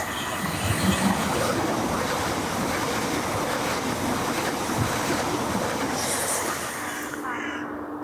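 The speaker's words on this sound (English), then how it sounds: "you will see flying fast through this station the Class 395 Javelin" A Class 395 Javelin electric multiple unit speeds through Westgate-on-Sea station on the Chatham Main Line, a loud sustained rushing roar of wheels and air close by that eases slightly as the train clears, with faint high tones at the end.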